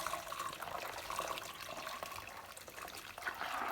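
Whey drains out through a cheese strainer during cheesemaking, a steady, continuous watery trickle and splash heard close up with no talking.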